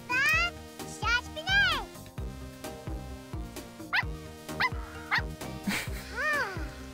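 Small yips and barks from a dog in The Sims 4 come in short bursts over light game music, with someone talking in German between them.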